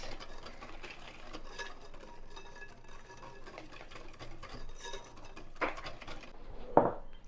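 Cobbler batter of milk and other ingredients whisked around in a bowl: quick rhythmic tapping and swishing, moderately faint, ending in a couple of louder knocks against the bowl.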